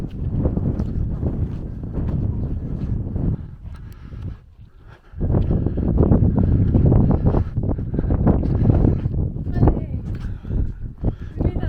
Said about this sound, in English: Don't know if you can hear us, it's very windy.